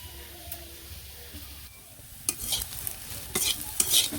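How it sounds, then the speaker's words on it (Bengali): Onions, chillies and spices frying in a pan: a soft sizzle at first, then louder scraping stirs and bursts of crackling sizzle from a utensil working the pan, close and uneven in rhythm. "এ জায়গায় হচ্ছে পেঁয়াজ মরিচ প্রথমে ভাজি করে নিচ্ছি"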